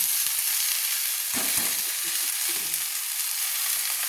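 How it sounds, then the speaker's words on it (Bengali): Taro and khosla greens stirred in a frying pan, a steady broadband sizzle with a burst of scraping stir strokes in the middle, close and moderately loud, no voices. "দিয়ে আমি ভালো করে নেড়ে নিচ্ছি"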